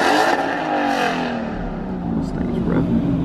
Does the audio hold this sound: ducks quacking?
no